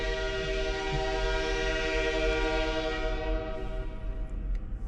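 A train passes near a historic train station at midnight, its horn sounding a long sustained chord over the rolling rumble of the cars, then fading.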